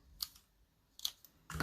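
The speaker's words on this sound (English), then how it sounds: "I'll use my scissors to trim that." Scissors snip through a card accent piece for a Stampin' Up! gnome holiday card, making three short, crisp cuts spaced apart, the last one louder and longer, with no talking.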